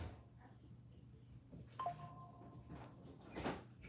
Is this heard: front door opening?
yes